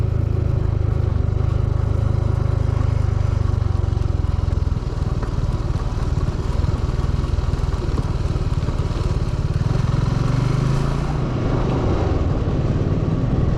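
A motorcycle is ridden along a mountain road near Sandakphu, its engine drone loud and continuous with steady rumble and clatter, rising slightly toward the end, with no talking.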